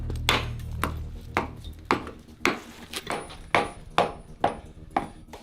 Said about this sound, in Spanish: martillamos las partes excedentes.